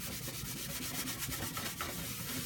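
Tacky oil residue being scrubbed off with a DIY scrub mixture makes a continuous, close, rough rubbing and scouring sound in quick back-and-forth strokes, with no talking.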